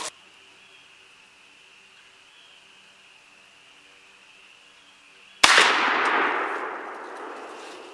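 A Remington 870 pump shotgun with an extended barrel fires a 3.5-inch Winchester turkey load, one loud close blast after several seconds of quiet hum, followed by a long decaying roar.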